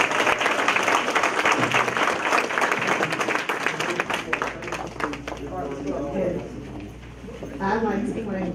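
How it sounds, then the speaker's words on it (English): Audience at a county school board meeting clapping for parents, a dense steady applause for several seconds that thins toward the end as a voice starts talking over it. "let's give the parents a big round of applause"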